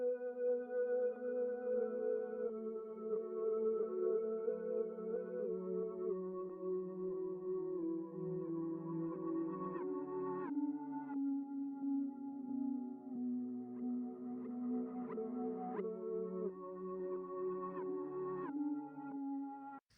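Reversed synth lead sample drenched in reverb for an ambient dark R&B feel, a soft swelling melodic line with slowly shifting tones that plays quietly and continuously with no talking.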